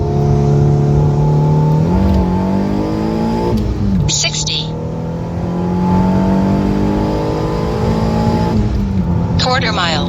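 A tuned MK6 Volkswagen Golf R pulls hard through the gears, its engine note climbing loudly and steadily with brief dips at each shift, heard from inside the car with voices talking over it.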